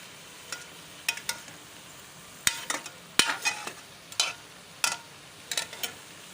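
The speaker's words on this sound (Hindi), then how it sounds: "और इसको फ्राई कर रही हूँ अब ऑयल में" Potatoes frying in oil for aloo chicken, with a soft sizzle under intermittent sharp clatters of stirring, close and moderately loud, no talk.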